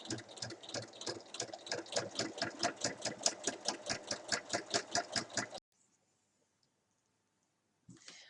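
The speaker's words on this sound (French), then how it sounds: "il faut venir piquer tout le long à 1 mm du bord" A sewing machine stitches along the edge of a fabric basket in a fast, even run of rhythmic mechanical clatter for about five and a half seconds, then stops into near silence before a faint handling noise.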